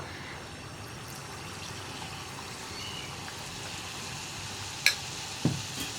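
Rice flour snack batter frying in hot oil, a steady soft sizzle and crackle running throughout at low level, with a couple of sharper ticks or clinks near the end.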